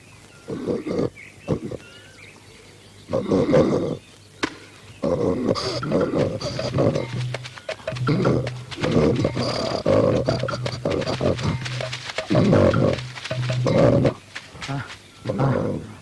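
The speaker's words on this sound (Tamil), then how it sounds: "கரடி" A bear roars and growls in repeated rough, throaty bursts over several seconds, mixed with excited human voices and shouts.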